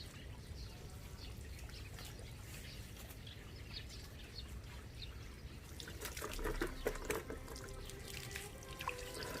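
Freshly pulled, soil-covered radishes being washed in water: faint continuous splashing and trickling, growing busier and more agitated toward the end, with no talking.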